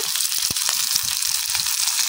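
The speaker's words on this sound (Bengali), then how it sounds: "খুব কম মশলা দিয়ে ওর জন্য মাংস ভাজি করি।" Meat frying with very little spice in a village kitchen, a steady hiss of sizzling with soft stirring knocks, close and continuous.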